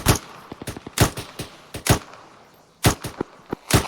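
Rapid gunfire from a squad of soldiers in the military shooter Arma 3, loud sharp shots in quick clustered bursts with a short pause before another volley.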